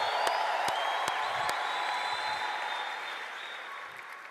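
A church congregation claps and cheers together, a dense sustained wave of applause with a few sharp whoops that stays strong throughout and eases slightly toward the end.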